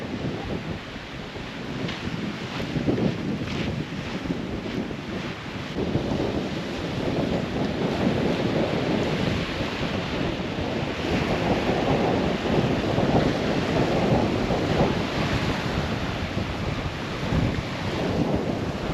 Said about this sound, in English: But check out the wind.